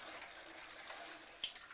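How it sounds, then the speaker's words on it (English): Cold tap water runs steadily into a LeveLuk SD501 Kangen water machine, a soft continuous hiss and splash at low level with a couple of small drips or clicks near the end. "So I'm just going to turn the water on"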